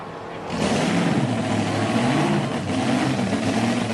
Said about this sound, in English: I think they got the top engine running